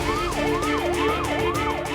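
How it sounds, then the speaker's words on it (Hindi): A wailing ambulance siren sweeps up and down in steady repeated cycles, loud and continuous, from an ambulance stuck in a traffic jam with road noise beneath. "इस ट्रैफिक में तो ये एम्बुलेंस भी फंसी हुई है।"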